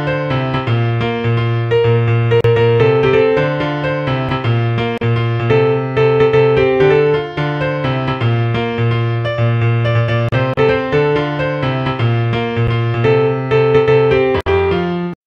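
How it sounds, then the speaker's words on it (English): A piano melody plays over a steady, sustained bass line, loud and continuous, with no voices. "Now, the piano melody and bass together sound like this."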